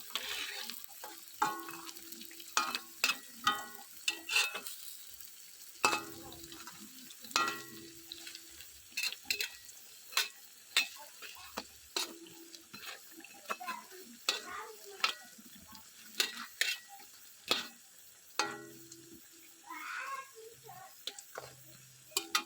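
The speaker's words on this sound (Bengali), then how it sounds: "বেগুনগুলো ভাজা হয়ে গেছে, বেগুনগুলো এবার তুলে নেবো।" Eggplant slices frying in oil for Bengali eggplant chop, with intermittent sharp clicks and scrapes of a spatula stirring over a soft, steady sizzle in a home kitchen; no talking.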